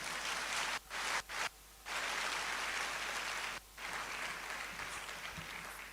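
Applause at an induction ceremony for newly qualified physician assistants sounds as a dense, rain-like wash of clapping from a crowd, broken by a few brief gaps, faint and distant.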